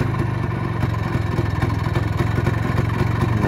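An IZh Planeta 5 motorcycle engine idles while out on a country road, its low, steady throb running continuously and fairly loud, with slight unevenness in the beat and no voices over it.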